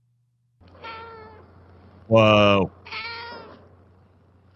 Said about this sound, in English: there she is meowing